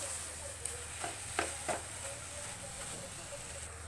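A spoon stirs carrot laddu mixture in a pan with soft scraping and a few brief knocks over a faint low sizzle, quiet and close, with no talking.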